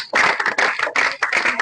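A class of students clapping together in a classroom, several rhythmic bursts of hand claps in quick groups, close and fairly loud, with no talking over them.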